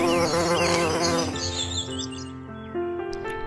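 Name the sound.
honeybees buzzing around flowers collecting nectar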